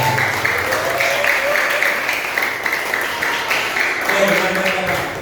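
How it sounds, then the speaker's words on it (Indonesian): Applause from an audience at an anti-corruption school assembly, steady and fairly loud for the whole stretch, with some voices and chatter mixed in underneath. "Tepuk tangan sekali lagi buat Bapak."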